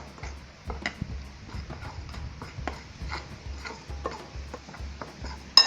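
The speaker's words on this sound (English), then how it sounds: "We've got 2 eggs that we're going to crack into here. Just mix those up a bit." Two eggs and all-purpose flour being mixed for a beer batter for king mackerel, a run of irregular tapping and clicking strokes against a bowl, close and fairly quiet, with one brief spoken word.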